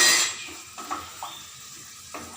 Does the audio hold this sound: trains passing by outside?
no